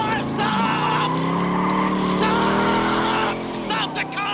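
A car skids on a New York street, its tires giving a loud, sustained squeal that slides down in pitch near the end, with shouting voices mixed in.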